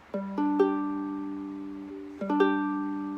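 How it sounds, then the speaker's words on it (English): Ukulele chords rolled upward note by note, each landing on a ringing top note, played twice with a pause between, clear and close. "we're going to strum through the chord until we reach the melody"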